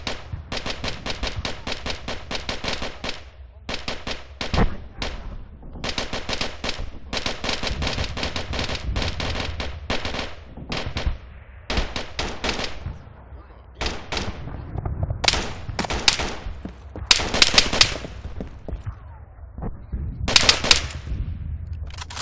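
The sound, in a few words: gunfire in the video game IFA3WarMod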